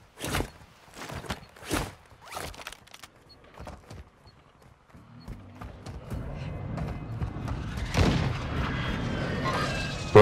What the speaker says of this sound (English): Got shooting at me right now.